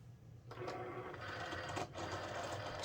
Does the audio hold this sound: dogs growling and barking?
no